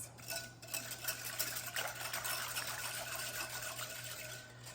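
Cake batter whisked in a cup gives a continuous close scraping and stirring sound, a fast steady rhythm of whisk against the cup's sides, with no voices.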